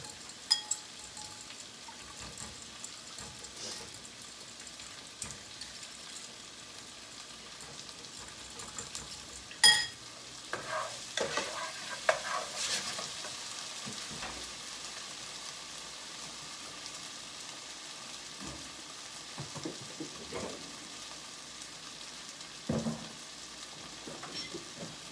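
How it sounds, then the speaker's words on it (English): Chicken pot pie filling being stirred in a pan after a cup of liquid is added, a soft steady sizzle with scattered scraping and clinks of the spoon, faint and close. "I just added about a cup of liquid to this, and I am just mixing that together."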